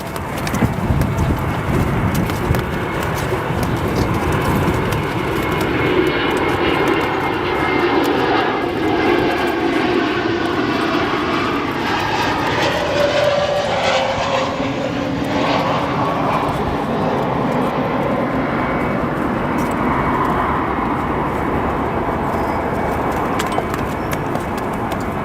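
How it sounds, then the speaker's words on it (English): A Viva Aerobus Airbus A321neo lands at O'Hare, its engines giving a loud, steady roar with a sweeping tonal whine as it comes in, lasting the whole stretch. "our arriving A321neo operated by Viva Aerobus"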